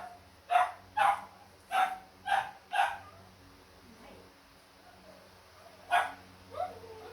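Several dogs bark in short sharp bursts, five quick barks in a row, then a pause and two more scattered yips, fairly close with a quiet background.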